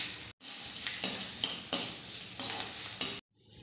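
Ginger fries in desi ghee in a kadai with a constant close sizzle. A spoon stirs it in repeated scraping strokes, and the sizzle drops out briefly twice. No one speaks.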